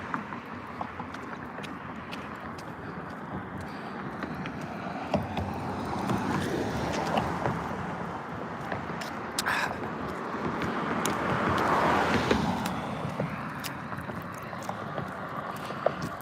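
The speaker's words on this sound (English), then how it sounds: "Sorry about the noisy cars going by." Cars pass along a small access road near houses, a continuous broad whoosh of traffic that swells and fades with vehicles going by, moderately loud, with faint clicks and no talk.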